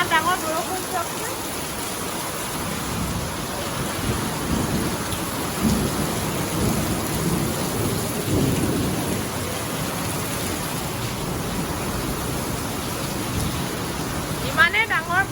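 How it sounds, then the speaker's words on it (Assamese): Heavy rain with thunder pours down in a dense, continuous roar, with low rumbling swells rising through the downpour, loud and steady from start to finish. "ইমানেই ডাঙৰ বৰষুণ দিছে, আমি এতিয়া ওলাই যাব পৰা নাই ইয়াৰ পৰা।"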